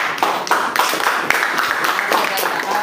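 A ninth-grade class in a junior high school classroom claps hands together, a short burst of close, uneven clapping with a voice speaking over it.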